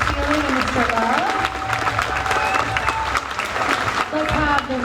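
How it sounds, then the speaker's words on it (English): A school concert audience applauds the middle school orchestra directors, with dense, steady clapping throughout and cheering voices mixed in. "I would like to give a round of applause to our middle school orchestra directors"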